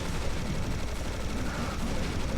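Sustained minigun fire in Serious Sam HD: The First Encounter, a dense, unbroken roar of rapid shots that stays loud and steady throughout, with no pauses or talk.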